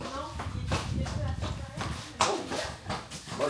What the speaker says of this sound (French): Ça, c'est mon cheval.